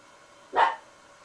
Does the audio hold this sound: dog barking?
yes